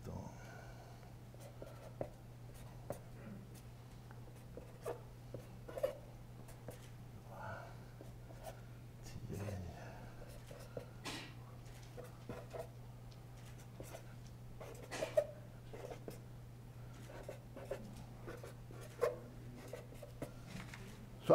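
A pen writes numbers into a magic square with faint, intermittent scratchy strokes and taps, spread through the clip over a steady low electrical hum in a quiet room.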